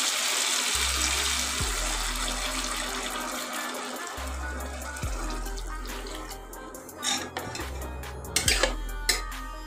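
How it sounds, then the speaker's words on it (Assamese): Water poured into a pan of cooking pointed gourd, a splashing, trickling rush that starts loud and fades, layered over a low repeating hum, followed by a few sharp clinks of metal cookware near the end. "এতিয়া মই ইয়াতে দি দিম পানী"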